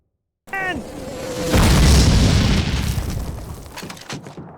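A mortar shell explosion in Call of Duty (2003) follows a brief shouted voice, then erupts into a loud, close, heavy boom with a long rumbling debris tail that slowly fades.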